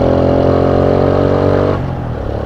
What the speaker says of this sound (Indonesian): biarpun masih tua, digas kayak gitu enak kalau ada olinya